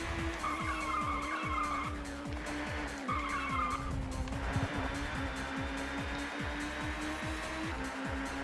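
Touring cars racing at Snetterton in the TOCA Touring Car Championship video game, with steady loud engine drone and repeated tire skids and squeals as one car laps a Volvo, no talk.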